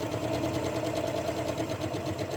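Sewing machine running steadily through fabric and ribbon while back stitching, a close, continuous mechanical whir with a fast rhythmic needle chatter and no pauses.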